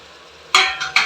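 Chopped vegetables for a kodo millet pulao drop into a quiet pan, followed by two or three quick scraping stirs with a utensil, each with a short sizzle.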